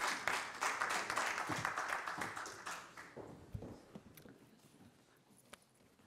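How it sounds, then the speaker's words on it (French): An audience at a closing conference session applauds to welcome speaker Karine Seller, dense clapping that holds for a few seconds before thinning out to scattered claps. "Karine Seller, merci de nous rejoindre et on vous applaudit"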